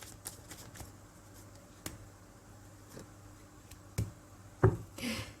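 Tarot cards being shuffled by hand, with quiet scattered riffles and taps spread across the moment and a louder flurry near the end, close and faint with no talking.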